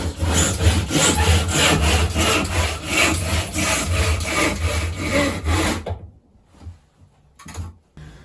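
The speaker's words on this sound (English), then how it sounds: "perfect way to saw, in my opinion" A hand saw cuts wood clamped in a vise with close, loud, rhythmic back-and-forth strokes for about six seconds, then stops, leaving a few faint handling knocks.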